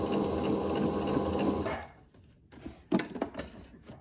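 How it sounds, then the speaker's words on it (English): A sewing machine stitches through shirred fabric for a pair of pants, running in a steady close whir for under two seconds, then giving a few short bursts after a pause. "Just take your time sewing this through."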